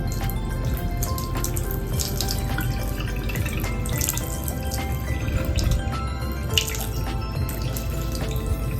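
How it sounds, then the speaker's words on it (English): Hot water pours and drips steadily over a plastic fashion doll's head, a continuous close splashing trickle with scattered drips. "while the water is still hot, make sure to pour it over the doll's head."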